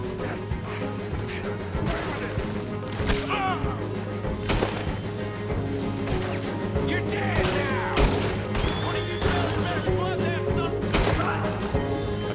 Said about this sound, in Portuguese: Acho que eu dei um tiro onde eu não devia.